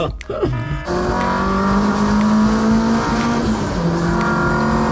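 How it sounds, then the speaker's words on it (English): A car engine drones steadily from inside the vehicle as it drives down a country lane, the pitch rising and easing with the throttle. "car is so fun to drive down these country lanes"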